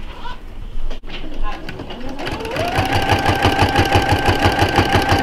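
A sewing machine stitches along a quilt edge with brown thread, settling into a fast, even, rhythmic whir that runs steadily to the end. A voice is briefly heard near the start.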